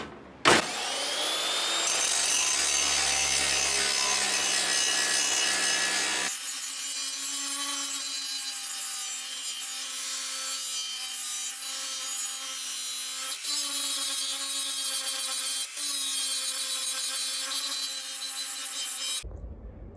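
An angle grinder disc grinds on Bush Hog mower blades during Massey Ferguson maintenance, a loud, steady close-up whine that shifts in pitch partway through and runs unbroken for about twenty seconds with no talk.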